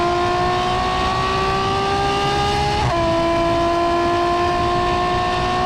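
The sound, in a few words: Ferrari F12 with Novitec exhaust revving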